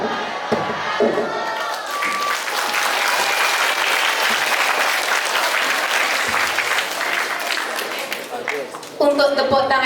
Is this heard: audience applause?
yes